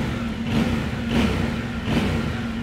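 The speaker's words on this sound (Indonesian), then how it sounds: "suaranya emang khas mesin 270 derajat teman-teman" A Yamaha Ténéré 700 World Raid with a 270-degree engine revs up from idle in three swelling blips. The close, loud engine note has a slightly uneven throb and no talk over it.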